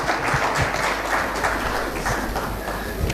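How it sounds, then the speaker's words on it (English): A room full of people clapping continuously, a thick, even wash of applause without pause. "a round of applause for Bilton Nyako."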